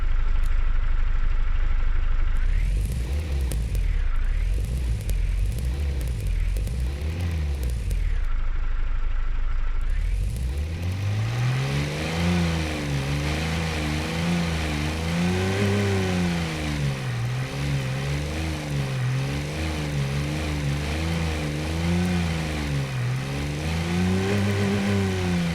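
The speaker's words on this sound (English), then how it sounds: "It's a tractor engine, listen." A tractor-like 1970s Soviet-style car engine in the Automation game idles roughly for about ten seconds, then revs repeatedly, its pitch rising and falling in loud, wavering surges.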